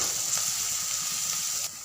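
Radish slices fry in a pan over a medium flame with salt and turmeric, giving a steady close sizzle and hiss that runs unbroken and eases slightly at the very end.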